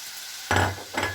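Chicken quiche filling with spices stirred in a frying pan, giving two quick, close, sizzling scrapes.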